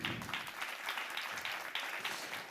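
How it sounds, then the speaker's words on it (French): An audience applauds the participants at the close of a debate on smart textiles at a conference, a steady wash of clapping that stays even and unbroken throughout. "Je pense qu'on peut les applaudir."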